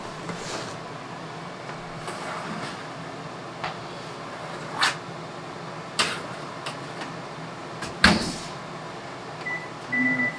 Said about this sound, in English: I'm gonna set the oven to broil. Back in the oven.